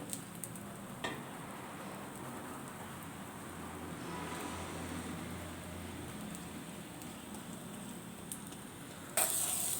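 Onion dosa made from idli batter fries on a pan with a steady, soft sizzling hiss that runs evenly throughout.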